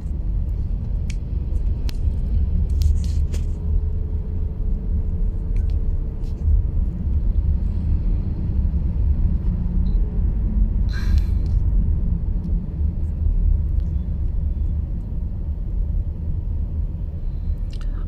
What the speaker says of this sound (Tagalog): Ganoon pa rin traffic, mabagal.